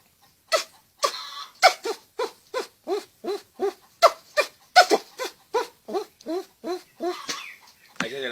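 A man imitates a squirrel with his mouth, delivering a rapid series of about eighteen sharp, barking chirps in a steady rhythm over several seconds, close and loud with brief gaps between calls.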